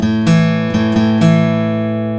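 Four sharply picked guitar notes with a down, down, up stroke pattern play an intro riff, close and clear, each note ringing into the next.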